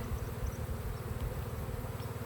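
Honey bees droning around an open backyard hive, a steady low buzzing hum that runs unbroken and fairly faint, with no voices over it.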